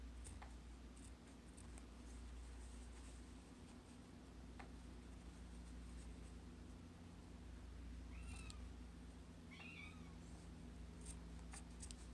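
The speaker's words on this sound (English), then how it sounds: "Cat is really not happy with me." An indoor cat meows a couple of times, faint and somewhat distant, over a steady low hum in a quiet room where masks are being sewn.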